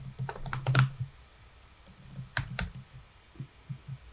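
Typing on a computer keyboard: close, crisp key clicks in a quick burst of taps, a pause, then another short cluster of keystrokes and a few softer taps, with no talking.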